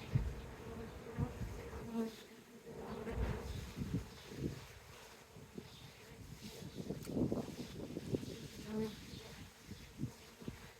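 A rescued swarm of honey bees buzzes all around during an inspection, a dense droning hum with individual bees passing close, and faint talk at moments.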